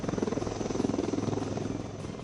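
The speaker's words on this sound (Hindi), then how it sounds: "लाइट कॉम्बैट हेलीकॉप्टर काफी यूनिक है" An Indian Prachand Light Combat Helicopter flies nearby with its rotor chopping in a fast regular beat over a loud engine drone, easing slightly toward the end.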